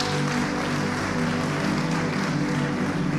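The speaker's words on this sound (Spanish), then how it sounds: "Dale un aplauso al Señor Jesucristo." A church congregation applauds together in a sustained burst of clapping, dense and steady throughout with a hum of room noise beneath.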